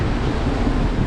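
Strong wind blows across a wide river, a loud steady roar of broadband rushing air with no voices.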